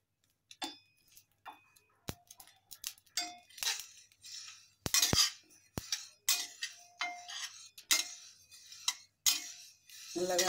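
A spoon clinks and taps against a pan as achari masala is stirred and roasted, giving quiet, irregular metallic ticks spaced through a mostly silent background.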